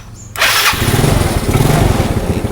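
A motorcycle engine, checked for a battery fault, cranks and fires up, then settles into a loud, steady idle close by with no talking.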